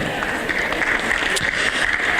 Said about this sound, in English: Round of applause for her.